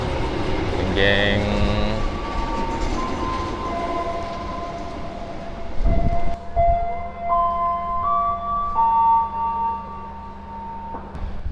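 A local Penataran commuter train arriving on track 2 at Blitar station, a horn sounding near the start, then a steady rumble with long tonal chimes and bursts of noise, a brief voice heard once.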